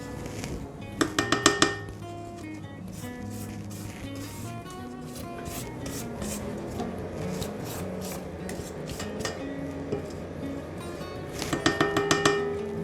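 Scraping down the sides of a mixing bowl while making Runeberg torte, quiet rubbing and scraping with clusters of metallic clinks near the start and end.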